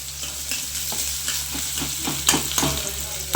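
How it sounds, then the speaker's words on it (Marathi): Onion frying and being stirred in a kadhai: a steady close sizzle runs throughout, with a few sharper scraping stirs near the end. "टाक मग कांदा शिजू दे."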